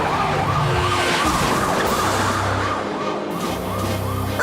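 A cartoon ambulance siren wails continuously in a loud, repeating rising-and-falling pattern over the rumble of a moving vehicle, filling the whole moment without any talk.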